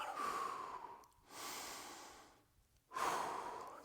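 Slow, deep breaths during a cobra stretch in a gym workout: alternating long inhales and exhales, close and fairly loud, each lasting over a second, with no talk.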